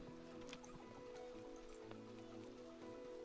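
Steady rain falls in the farming video game Staxel, a soft continuous patter and drip layered with a looping game music tone, no talking.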